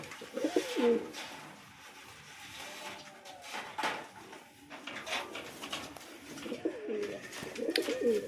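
Fancy pigeons at a home pigeon farm giving low rolling coos in bursts, near and moderately loud, with a few wing flutters and clatters between calls and no talking.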